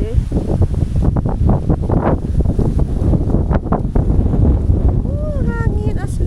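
Steady wind buffeting and roaring across the microphone in Nueva Ecija, Philippines, with voices talking underneath throughout.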